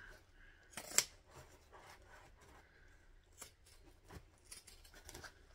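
Scissors trim fabric close by, with a sharp snip near the start and then quieter, intermittent cutting and rustling.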